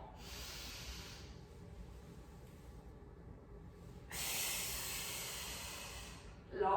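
A deep breathing exercise: a long hissing exhale, a quiet pause, then a stronger airy breath close to the microphone, ending with a brief thump.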